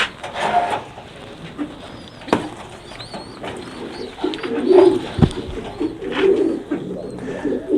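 Soft, low cooing from a ten-day-old squab, in short intermittent bursts close by, with occasional rustling and knocks in between.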